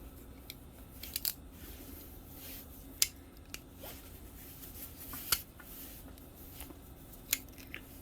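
Quiet snips and clicks of scissors cutting a cracked cable on a KD80, scattered crisp cuts over a faint background hiss, with no talking.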